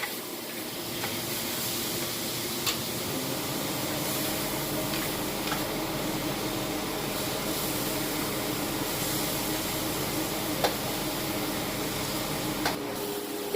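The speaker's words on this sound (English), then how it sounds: "at the same time that the meat is cooking, the onions are cooking with it, the cilantro" Meat, onions and cilantro cook together in a pan for burritos, giving a steady soft sizzle and hiss with a few faint clinks over the top.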